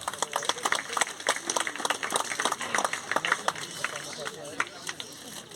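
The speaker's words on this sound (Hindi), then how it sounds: "तालियों से स्वागत करें जरा।" Scattered, moderately quiet clapping from a small crowd at a school archery meet medal ceremony, individual claps distinct and uneven, with people talking over it.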